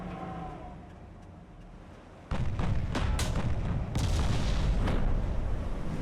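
Naval gunfire in the video game Ultimate Admiral: Dreadnoughts: a dense rumbling battle soundscape that swells into heavy booming salvos and overlapping blasts, loud and continuous.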